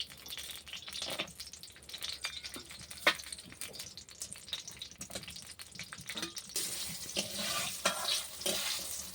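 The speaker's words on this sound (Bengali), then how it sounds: "এই যে এই বড়িটা আমি ভেজে নিব" Lentil dumplings (bori) fry in white oil in a wok with a steady crackling sizzle, punctuated by scraping stirs and an occasional sharp clink, and the frying grows brighter and louder toward the end.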